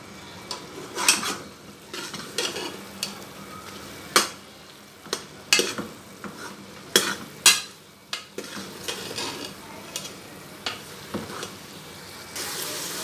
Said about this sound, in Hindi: और अब इसको हाई फ्लेम पे भून लें थोड़ा सा